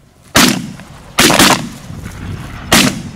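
Three loud, close shotgun blasts ring out at uneven intervals during a duck hunt in northern Canada, each a sharp crack followed by a brief rolling echo.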